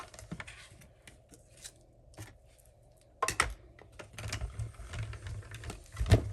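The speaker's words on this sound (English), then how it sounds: "We get our mini Stampin' Cut and Emboss machine" A mini Stampin' Cut and Emboss die-cutting machine is cranked, giving close mechanical clicks and a rough grinding run as a die passes through, surrounded by scattered handling taps, with no talking.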